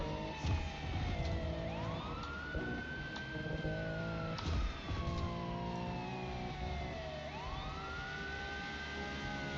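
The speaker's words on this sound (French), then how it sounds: "j'entends quand même la sirène" A wailing vehicle siren in a video game rises and falls continuously over a dense engine rumble, loud and sustained throughout.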